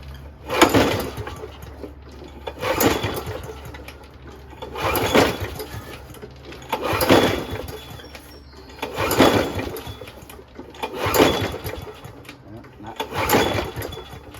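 Toro GTS 6HP recycler snowblower with a Briggs Quantum engine, fed a little gas, being pulled over repeatedly: seven rhythmic bursts of cranking noise about two seconds apart, close and loud, without catching.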